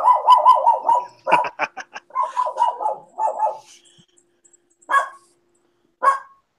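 A small schnauzer barks in rapid, high-pitched bursts close by, a flurry of yaps followed by pauses and two final single barks.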